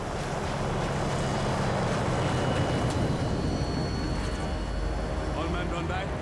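A vehicle rumbles toward the player in Call of Duty: Modern Warfare 3, a loud, steady, wind-like roar filling the whole stretch without letting up, with voices mixed in.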